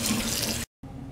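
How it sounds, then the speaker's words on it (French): Cold tap water runs steadily into a sink as milkweed pods are rinsed, a loud close hissing stream that briefly cuts out and then resumes more softly. "Là, je vais les passer à l'eau froide en attendant que la deuxième eau bouille pour éviter qu'il soit trop cuit."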